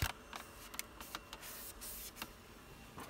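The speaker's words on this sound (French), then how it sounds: "Une sorte de grincement comme ça bizarre." A faint, irregular squeaking and clicking comes from inside a car cabin, a string of brief, dry ticks against a low hiss, with no voices.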